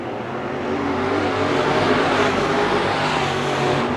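Race cars at Bakersfield Speedway roar side by side during a heat race, a steady, loud, dense engine drone with a constant rumble and no break across the stretch.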